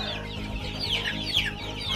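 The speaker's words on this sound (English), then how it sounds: "yeah, local chicken, as you can see" Young local indigenous chickens, a flock of over two hundred month-old chicks including naked-neck birds, clucking and peeping together on a farm in a steady, busy chorus with no talk.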